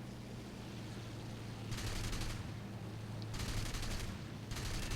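Aircraft guns in War Thunder fire three sharp bursts at a bomber over a steady low engine drone, the rattling volleys loud and close.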